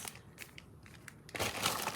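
Plastic packaging around toilet seat covers and Kleenex crinkles and crushes close up, light scattered rustles first and then a louder, denser burst of crumpling near the end.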